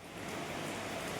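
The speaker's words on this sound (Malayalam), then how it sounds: "മഴ അടിപൊളി മഴയാണ്, നന്നായിട്ട് പെയ്തുകൊണ്ടിരിക്കുന്നുണ്ട്" Heavy morning rain pours down outdoors under an overcast sky, a dense, steady hiss of drops with no break, moderately loud and close throughout.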